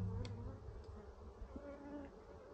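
Honey bees hum and drone at an open hive during spring beekeeping work, a continuous close buzzing swarm that holds steady throughout with no voices over it.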